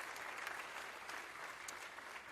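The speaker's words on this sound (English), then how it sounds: "Let's give them another round of applause" Audience at a high school commencement ceremony clapping for the choir, a steady wash of applause from a sizable crowd that sounds somewhat distant and holds even throughout with no voices over it.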